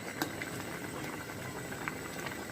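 Broken rice simmering in a pot, a soft continuous bubbling and popping close by, quiet and steady with a few sharper pops.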